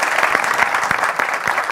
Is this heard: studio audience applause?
yes